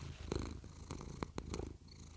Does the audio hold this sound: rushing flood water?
no